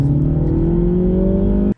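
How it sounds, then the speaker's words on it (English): A 2023 Mini Cooper S with its B48 turbocharged engine accelerates hard in sport mode, a loud close engine note rising steadily in pitch before cutting off abruptly. "with its B48 turbocharged engine, it's no slouch when you put it in sport mode and punch it"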